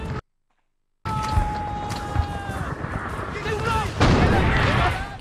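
Gunfire and explosions rumble through Men of Valor combat, a dense barrage of booms and shots after a brief silence, close and loud, with someone speaking over the noise.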